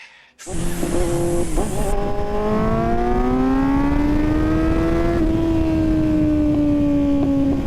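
A 2024 Kawasaki Z900 motorcycle accelerates hard, its loud engine note climbing steadily in pitch over several seconds with a brief shift partway through, sustained and close with no talk.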